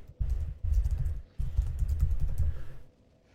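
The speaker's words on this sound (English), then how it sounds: "So you all hear my typing." Computer keyboard typing in quick bursts of clattering keystrokes, close and fairly loud, with two brief pauses before trailing off into quiet.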